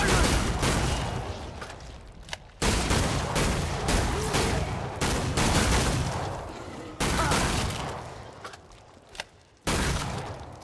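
Rapid, loud gunfire in the video game Killing Floor 2, sharpshooter on the Burning Paris map, bursts of shots repeating in dense clusters with brief gaps between volleys.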